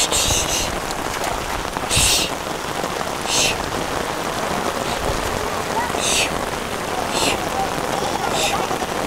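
Heavy rain pours steadily around an old house during flooding, a dense, loud hiss that never lets up, with a few sharper splashes and knocks breaking through now and then.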